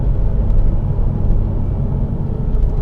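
A 2013 Scion tC with an automatic transmission downshifting on the road, a steady loud low engine and road rumble from inside the cabin with no distinct shift event standing out.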